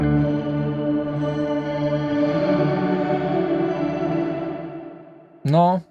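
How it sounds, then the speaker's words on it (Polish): A reverb effect pedal switched on alone sustains a dense, ringing wash of layered, organ-like tones for several seconds before it fades, then a short, bright, swooping burst of processed sound ends it. No one talks. "Włączę sam pogłos."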